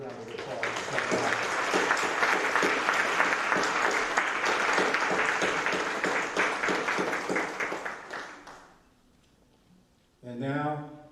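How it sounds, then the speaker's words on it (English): Dense, loud applause from a high school audience at a senior awards night fills the hall for about eight seconds, then fades out before a voice begins speaking. "let's give everybody a big round of applause."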